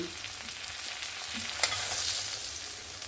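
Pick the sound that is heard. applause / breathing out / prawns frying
prawns frying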